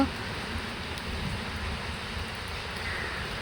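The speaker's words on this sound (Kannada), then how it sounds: "ಈಗ ಸ್ವಲ್ಪ ಸ್ಟಾರ್ಟ್ ಆಯಿತು ಮಳೆ ಬರೋಕ್ಕೆ" Steady soft hiss of light rain falling, an even wash of noise with no distinct drops or voices.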